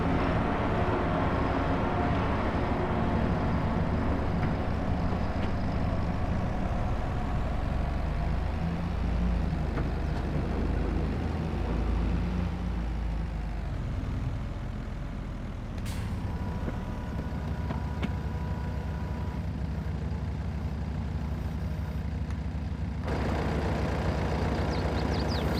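A slow Massey tractor drives along a highway in Farming Simulator 22, its engine giving a steady, close, low droning hum with slight shifts in pitch and a brief dip partway through.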